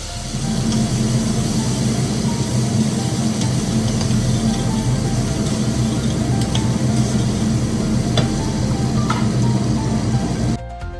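Tomato frying in a hot pan while being stirred, giving a loud, steady, continuous sizzle with a low rumbling undertone that cuts off abruptly near the end.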